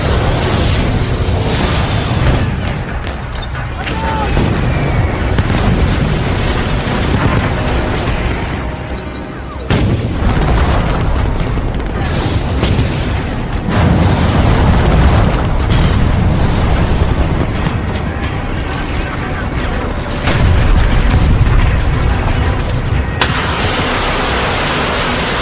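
A Soviet Katyusha rocket barrage strikes Berlin, loud rumbling booms and blasts rolling continuously with surges and brief dips, dense and heavy throughout without speech.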